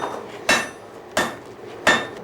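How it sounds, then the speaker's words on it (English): A hammer pounds on an anvil in three sharp, ringing metallic strikes, evenly spaced about two-thirds of a second apart, close and loud with no talking. "The sound of the hammer, the sound of the pounding on the anvil is kind of hearkening back to another day."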